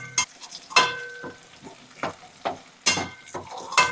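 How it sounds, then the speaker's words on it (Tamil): Garlic and onion sauté in oil for a South Indian garlic chutney, with a spatula scraping and stirring in several sharp, close bursts over a soft, steady sizzle. No one speaks. "பூண்டும் சரி வெங்காயமும் சரி எண்ணெயில் கொஞ்சம் நல்லா வதங்கட்டும்"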